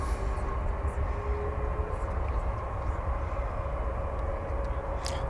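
Airplane touching down at DFW Airport, a continuous loud roar of engines and rolling tires on the runway, steady and fairly near, with a brief bright burst near the end.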